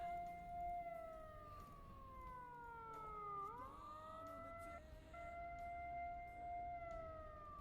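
A piercing siren in the survival video game Dead Air Survival wails steadily with falling and rising pitch sweeps, heard alone at low level.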